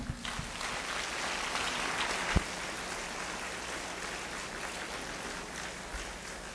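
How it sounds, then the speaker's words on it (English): An audience at a teachers' summer workshop in Cheonan applauds steadily, a dense even wash of clapping that carries on for several seconds with no speech over it. "please welcome him with a big applause"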